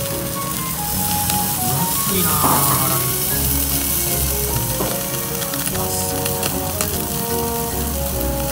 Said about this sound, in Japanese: ここからねちょっと焼きに入るんですけど、一発目はハラミでございます